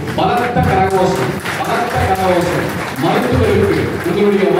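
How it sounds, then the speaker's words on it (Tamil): Loud audience applause fills a hall at a Tamil community anniversary function honouring students, steady broadband clapping mixed with voices speaking over it throughout. "பலத்த கரகோஷம்"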